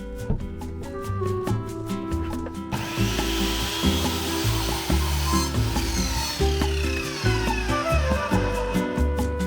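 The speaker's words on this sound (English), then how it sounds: "we'll use the drop saw to cut a slice off the bottom there and make it completely flat" A drop saw slices a thin piece off the bottom of a turned wooden display plinth for miniatures, a loud continuous cutting roar with shifting pitch and rhythmic surges throughout, no talking.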